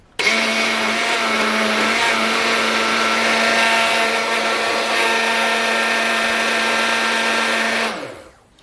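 An electric mixer whirs steadily while beating two eggs for egg-lemon sauce, a loud, even, motorized drone with a strong hum, running for about eight seconds before winding down and stopping.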